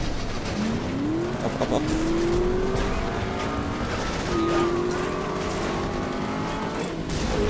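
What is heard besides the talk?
car engine accelerating in the video game Saboteur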